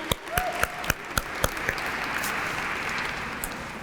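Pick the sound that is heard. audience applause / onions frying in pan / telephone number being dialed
audience applause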